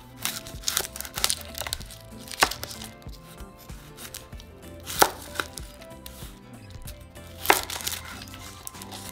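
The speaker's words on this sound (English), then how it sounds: "So now we're just going to cut our onion into 4 pieces." A knife chops an onion into pieces on a cutting board: a sequence of sharp, close knocks spaced a second or two apart, with crinkly handling noise between them.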